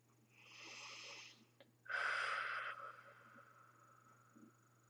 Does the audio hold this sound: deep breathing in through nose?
yes